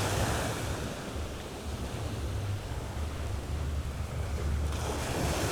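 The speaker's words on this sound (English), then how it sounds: "here you will find some waves" Ocean waves break and wash up on a beach in Aruba, a loud, continuous roar of surf mixed with buffeting wind noise.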